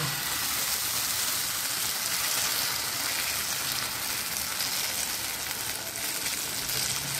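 Dosa batter spreads over a hot ghee-greased pan, giving a steady, loud, close sizzle and crackle that holds for the whole stretch without pause, and no one speaks over it.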